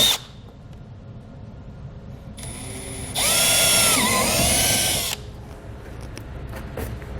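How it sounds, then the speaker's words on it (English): A power drill with a 15/16 drill bit bores a hole while mounting a Blue Ox base plate on a 2018 Jeep Grand Cherokee, starting with a short spin and then a loud, sustained cutting whine for about two seconds. "we're going to use a 15/16 drill bit to drill out the hole"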